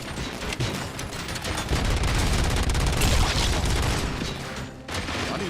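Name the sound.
gunfire in video game RoboCop: Rogue City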